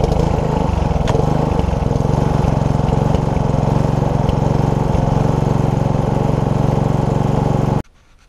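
A Briggs and Stratton SV150 engine on a Sovereign lawnmower, recently fitted with a replacement coil, runs at a loud, steady drone close by for about eight seconds, then cuts out abruptly.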